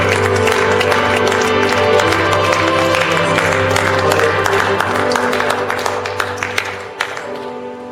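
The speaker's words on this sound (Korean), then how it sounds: "다시 한번 우리 영광의 이름 앞에 큰 박수로 올려드렸으면 좋겠습니다" A church congregation at a Tuesday worship gathering claps loudly and continuously over sustained music, then the applause thins out and fades near the end.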